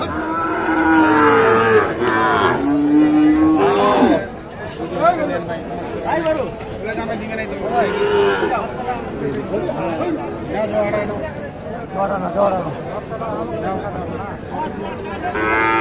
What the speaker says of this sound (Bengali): এই পাশে এগুলো সবগুলো কিন্তু শাহিওয়াল জাতের ষাঁড় বাছুর গরু